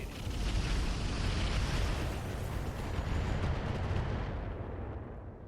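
Heavy mech weapon volleys pound a Vulcan mech in the RogueTech game, a dense roar of overlapping booming blasts and rumbling explosions that stays loud throughout and thins slightly at the end.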